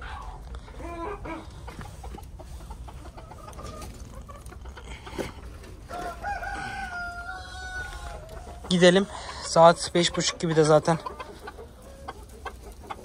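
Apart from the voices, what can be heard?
dwarf cochin rooster crowing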